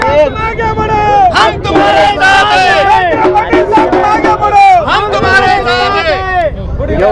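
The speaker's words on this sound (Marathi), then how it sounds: "एवढा मोठा जल्लोष भाजपाने" A BJP supporters' crowd celebrating in Nanded, loud and close, with dense overlapping cheering and shouting voices and a steady roar of commotion throughout.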